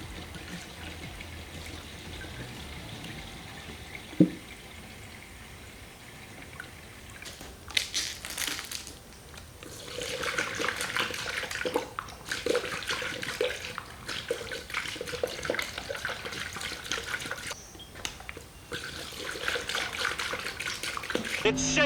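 Coolant pouring into the radiator of a 1972 Chevy C10, a steady watery trickle and splash that grows louder and denser midway, over a running engine with brief speech.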